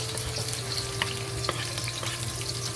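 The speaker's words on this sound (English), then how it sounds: "The oil is already frying, so we put the garlic into the oil." Steady hiss of garlic frying in hot oil, sizzling continuously with faint crackles and a low hum beneath, no voices.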